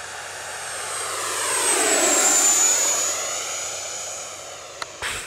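An E-flite 80mm F-16 RC electric ducted-fan jet at full throttle makes a loud rising-and-falling whine as it makes a close pass, swelling to a peak midway and fading, with a faint Doppler sweep and brief clicks near the end.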